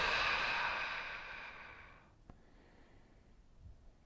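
A deep, breathy exhale during a breathwork exercise: a long, soft airy rush that fades over two seconds, followed by quiet stillness.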